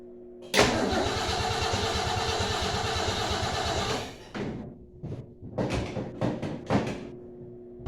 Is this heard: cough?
no